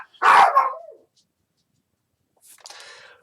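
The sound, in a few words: dogs barking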